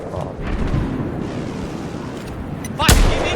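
Battlefield 4 video game gunfire and heavy booms over a dense rumbling battle bed, with one sharp loud blast near the end; no clear talk in the clip.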